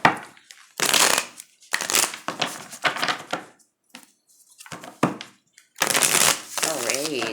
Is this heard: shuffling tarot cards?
yes